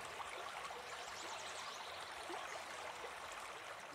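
A small sea trout stream flows steadily nearby, a continuous broadband rush of water with light trickling and gurgling detail, no voices.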